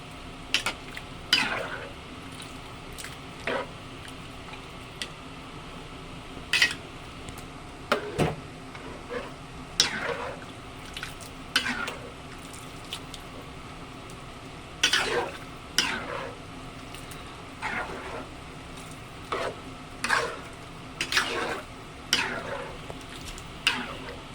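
Pork blood stew for dinuguan being stirred in a pot, a spoon scraping and clinking in repeated strokes over a steady low simmer, close and fairly loud, with no talking.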